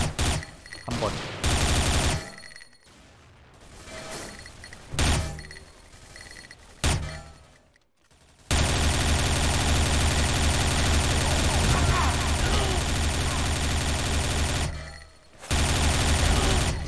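Gunfire from the shooter video game XShot: bursts of rapid shots with gaps between them, then a long sustained stream of automatic fire, loud and close with game effects.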